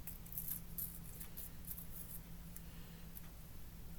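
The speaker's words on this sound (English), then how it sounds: "I'm going to put it on this tape runner, and then I'm going to tear a strip here" A strip of tape torn from a tape runner gives a few faint, short crackly tears near the start over quiet background hiss.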